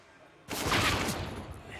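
A sudden burst of rapid gunfire in a competitive shooter game match erupts after a brief quiet moment and continues as a dense, loud rattle until the end.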